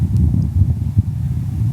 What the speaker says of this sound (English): The wind seems like it's picking up.